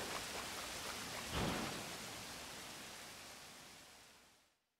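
Steady rain in the snowy forest of the video game Samurai Jack: Battle Through Time, a dense hiss with a brief swell near the middle, fading out at the end with no voices.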